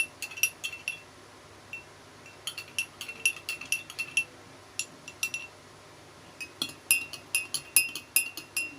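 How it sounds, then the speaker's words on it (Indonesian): A spoon stirs a collagen test mixture in a glass, making quick bright clinks in rapid clusters with short pauses between them, close and crisp, with no talking. "Nah, sini kita aduk-aduk dulu."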